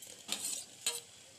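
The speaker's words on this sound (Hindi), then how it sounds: "अब हम इसमें टमाटर डालेंगे" Tomatoes dropped into frying onions and stirred, two brief bursts of sizzling and spoon scraping separated by a quiet pause, fairly faint and close, no talk.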